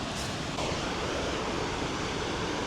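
Steady broadband rush of a waterfall beside a solo wild campsite in the fjalls, loud and continuous throughout with no speech, like close falling water.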